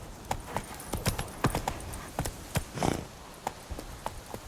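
Hooves of Roach, the horse in The Witcher 3: Blood and Wine, clatter in a fast, uneven galloping rhythm of sharp close thuds, with a brief rushing scuff partway through.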